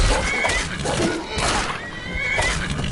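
Horse neighing in the video game Skyrim VR on PlayStation VR: a loud, drawn-out whinny rises and falls across the clip over a steady, dense background.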